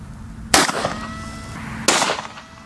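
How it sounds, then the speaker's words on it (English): Two sharp gunshot reports from WW2-era ammunition dated 1943 ring out about a second and a half apart, each a loud broadband crack with a brief reverberant tail over a steady low hum. "We're gonna fire two more rounds."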